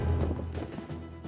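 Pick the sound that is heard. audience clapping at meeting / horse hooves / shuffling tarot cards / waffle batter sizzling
horse hooves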